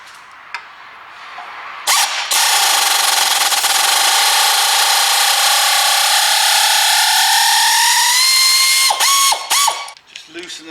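A pneumatic air gun loosens brake bolts on an Audi TT, a loud sustained whirring rattle of about seven seconds with a rising pitch, framed by short bursts and ending in a few quick triggered spurts.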